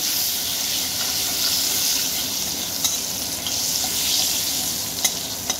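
Spice paste with salt and green chillies frying in oil in a pan over lowered gas, a steady close sizzle with soft stirring scrapes and a few light clicks of the spoon.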